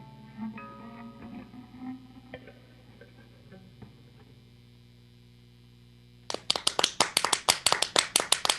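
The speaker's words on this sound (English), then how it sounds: "That is the creepiest, most encouraging applause I've ever heard" Applause breaks out suddenly after a quiet stretch of soft tones, a burst of close, crisp claps from a small group that keeps going to the end.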